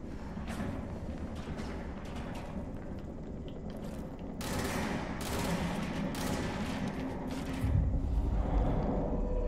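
Gunfire in the video game Control, heard as rapid bursts of shots and mechanical clatter over a dense, continuous action soundscape. The bursts grow louder partway through, with a heavy low thump near the end.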